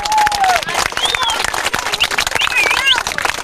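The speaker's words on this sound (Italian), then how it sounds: "Un applauso." A crowd claps at the inauguration of a small five-a-side football pitch at a Salesian oratory, loud and close, with children's shrill voices and cheers rising over the applause.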